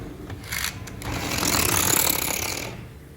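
A homemade model car's small electric motor and fan, run from a battery, give a close buzzing whirr that swells to a steady rattling drone and then fades, with no talking.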